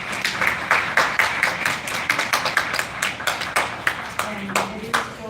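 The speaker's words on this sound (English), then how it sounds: "join me in having a very big round of applause" Distinct rhythmic hand claps ring out at a Black History community event, sounding like a few people clapping up close rather than a full crowd, with a voice speaking in between.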